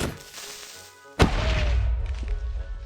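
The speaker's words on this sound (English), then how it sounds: "He passed away in a creeper's explosion." A creeper blows up in Minecraft with the Explosive Enhancement mod: one sudden loud blast after a brief lull, then a long, heavy rumbling roar that keeps going to the end.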